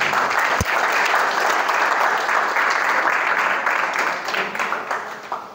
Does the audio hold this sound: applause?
yes